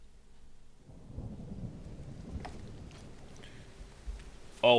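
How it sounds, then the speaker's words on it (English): A thunderstorm rolls in within the Zelda: Tears of the Kingdom video game, a deep continuous rumble of thunder with a soft rain wash, ending in a sudden louder crack. "Oh, why is there a thunderstorm?"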